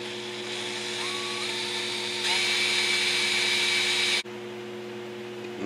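Power drill boring a hole with a drop of oil while a 1997 Corvette is being customized. A loud, steady whining drone holds for about four seconds, rises slightly in pitch midway, then cuts off briefly.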